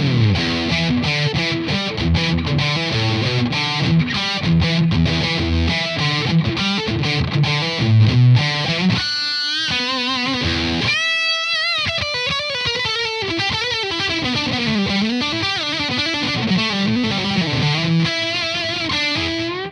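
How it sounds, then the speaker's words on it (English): Electric guitar through an Orange Getaway Driver overdrive pedal with the gain turned all the way up, giving a thick, saturated full distortion tone; sustained chords and single-note runs ring out loudly and continuously, briefly cutting out midway before resuming. "It's kind of full on distortion there."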